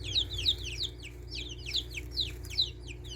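Young meat chickens in their coop make a quick series of high chirping clucks in an even rhythm, close and moderately quiet over a low background hum.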